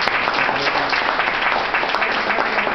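Loud, even applause from a networking event audience, a thick uninterrupted spread of clapping from many people close by, lasting the full moment without pause.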